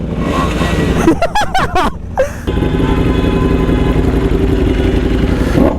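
A Ducati Panigale V4S motorcycle engine snaps through a few sharp, loud revs in quick succession, then settles into a steady, close rumble.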